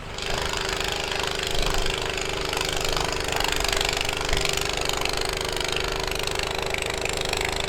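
Toro Commercial Power TRX snow blower clearing heavy snow and slush, a loud, close, steady engine drone with a rough mechanical chatter that runs unbroken throughout.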